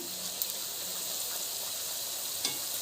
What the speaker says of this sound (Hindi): रूमाली पापड़ी को हम मध्यम आंच पर सेकेंगे